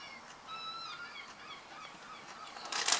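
Harmonic, honking calls from a pair of seagulls come in a few short bursts, moderately close, with a louder call near the end over quiet outdoor background.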